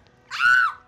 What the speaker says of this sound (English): That scream was too cute.